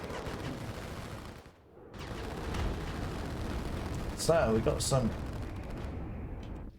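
Four rockets explode in a free-for-all video game match, firing a burst of booming blasts and crackling gunfire-like bangs. A voice talks over the barrage.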